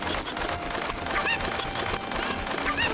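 Cucco chickens cluck in The Legend of Zelda: Ocarina of Time, with a few short, sharp honking squawks over busy game sound and music, close and loud.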